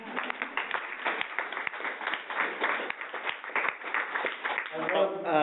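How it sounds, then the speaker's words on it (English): A webinar audience gives the speaker a round of scattered applause, thin and band-limited, with a voice starting to speak near the end. "A round of applause for Daniel"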